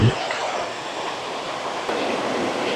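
Steady broadband rushing of water falling over small tiered falls in a mountain valley stream, continuous and fairly loud, with a short bump at the start and no voices.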